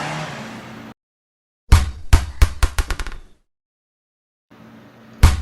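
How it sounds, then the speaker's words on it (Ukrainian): A ball bounces on a hard surface in a burst of about eight sharp thuds that come faster and quieter as it settles, set between stretches of silence and other short city sounds. "а так стрибає м'ячик."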